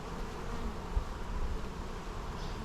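Honey bees humming steadily inside an open beehive during a summer inspection, a dense close buzz of many insects that holds at an even level, with no talking.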